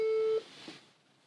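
A single steady telephone tone sounds while someone dials a call, cutting off after less than half a second and leaving a faint murmur of background noise.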